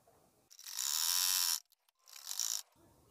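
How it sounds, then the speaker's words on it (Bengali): Sewing machine stitching around the neckline of a kameez, two close whirring runs of about a second and half a second, separated by a short pause and light handling sounds. "তো এখানে প্রথমে আমি চতুর্দিক দিয়ে একটা সেলাই করে নিয়ে নিব।"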